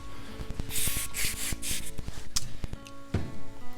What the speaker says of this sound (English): basically you just want to spray oil all down in all the cracks and crannies, and make sure that that oil bonds with that dirt